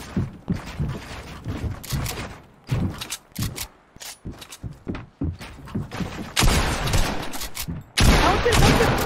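Gunfire in a video game, with bursts of sharp shots and rapid volleys separated by brief gaps, ending in a denser sustained burst, while players talk over it.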